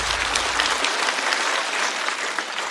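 Steady, dense applause from a stand-up comedy audience fills the whole moment, a continuous wash of clapping at moderate level with no talking over it.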